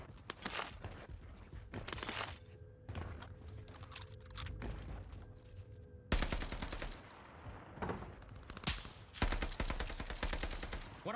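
Gunfire in Call of Duty Warzone: repeated sharp bursts of automatic rifle fire and single shots, loud and close, separated by short pauses, with a few heavier booming volleys near the end.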